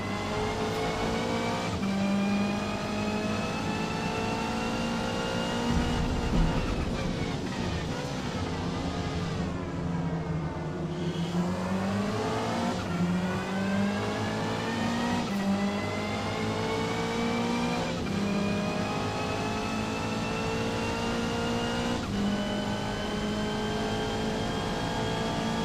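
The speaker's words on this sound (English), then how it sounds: "in a downshift to first gear there" A race car in Forza Motorsport revs hard and drops down to first gear, the engine note diving then climbing again with tire squeal, loud and continuous with no talking.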